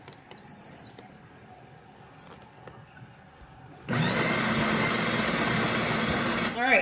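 A Ninja Cafe Luxe coffee machine grinds coffee beans with a loud, steady whirring drone that starts abruptly partway through and runs for about three seconds, after quieter handling noises.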